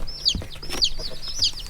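Young chicks peep in short, repeated high chirps with soft clucking mixed in, close by and fairly loud, several calls overlapping in quick succession.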